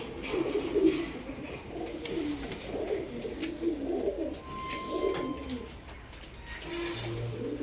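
Several pigeons in a breeding loft coo in low, rolling bursts that overlap and repeat, close by, with a faint background hum.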